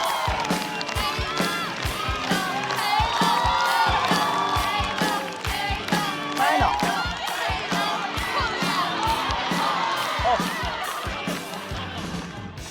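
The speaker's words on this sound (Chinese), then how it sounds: "掌声有请黑灯" A stand-up comedy audience greets the next comedian with a loud sustained burst of cheering, whoops and clapping, a dense crowd roar that holds steady for the whole stretch before easing slightly at the end.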